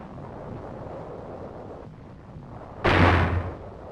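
A 4.2-inch mortar fires once in 1944 wartime combat, a single sharp, loud blast that decays quickly after a stretch of low wind-like background rumble.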